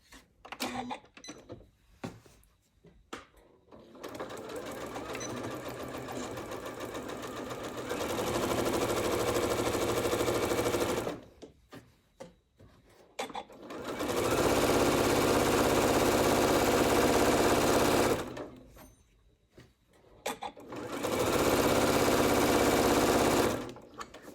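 A sewing machine stitching seams on fabric gift bags runs in three long bursts of steady whirring, separated by pauses filled with small handling clicks and rustles.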